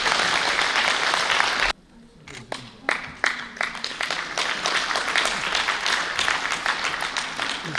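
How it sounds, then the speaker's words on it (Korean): Audience applause at a tea culture leaders' training event, a burst of clapping that cuts out briefly, then resumes in scattered claps and builds back to a steady round. "박수 한번 보내주십시오."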